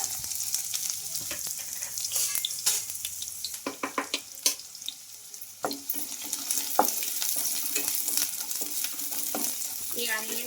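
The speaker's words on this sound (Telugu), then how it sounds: "కడాయి పెట్టేసుకుని అందులో ఒక రెండు స్పూన్ల ఆయిల్ అయితే వేసుకున్నానండి మనకు ఆయిల్ కూడా హీట్ అయింది ఇంకా ముందుగా ఆనియన్స్ అయితే వేసేసుకుంటున్నా" Onions hit about two spoons of hot oil in a kadai and crackle into a lively sizzle, with scattered sharp clinks and scrapes from stirring throughout.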